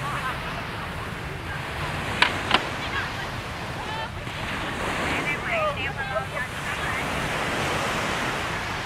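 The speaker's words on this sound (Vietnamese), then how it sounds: "À, bãi biển ở đây rất là đẹp nha." Ocean waves wash steadily onto the beach along Tran Phu street in Nha Trang, Vietnam, a continuous surf roar mixed with wind buffeting the microphone, with a couple of sharp clicks early on.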